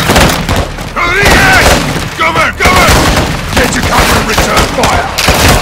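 Heavy bombing explosions boom and rumble in Call of Duty Modern Warfare 2, with gunfire crackling between the blasts and voices shouting over the loud, continuous battle.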